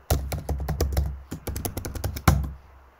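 Close, crisp typing on a computer keyboard while logging into a RHEL 9 system: a quick irregular run of keystrokes with a short pause, then a final heavier tap, likely Enter.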